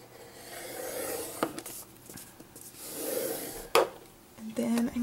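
Cardstock being scored for a 3D treat box: close scraping and rubbing strokes with a few sharp clicks and taps, fairly quiet, ending in a brief steady tone.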